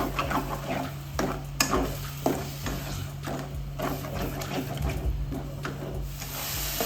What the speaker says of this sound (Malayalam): നല്ലതുപോലെ തക്കാളിയുടെ പച്ച മണം മാറി കിട്ടുന്നത് ഒന്ന് വഴറ്റിയെടുക്കണേ